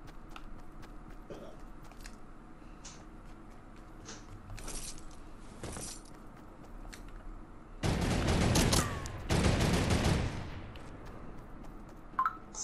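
Fortnite Battle Royale gunfire in a duos match, with scattered single shots early on, then two loud sustained bursts of rapid fire a few seconds apart and a final sharp shot near the end, heard without talking.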